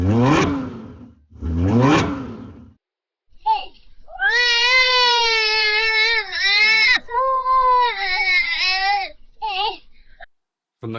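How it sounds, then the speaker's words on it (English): Generated audio samples: a baby cries in two sharp wailing bursts, followed by a long, strained, wavering crying wail with brief breaks, loud and close throughout. "a bird chirping, a car engine, and a baby crying"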